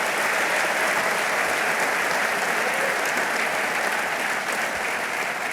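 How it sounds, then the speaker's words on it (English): A dense, continuous audience applause at a governor's economic development event, honoring his birthday, loud and even with many hands clapping throughout. "So come on, give him a round of applause."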